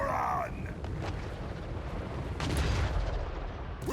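Dwarf cannon fire in a Warhammer Old World battle game, a deep booming blast followed by rumbling battle noise, with a second heavy boom midway and a sharp high crack near the end.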